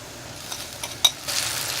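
Tomatoes frying in ghee with browned onions for dhaba-style bhindi masala, a steady soft sizzle with a light utensil clink and stirring scrape, growing slightly louder near the end.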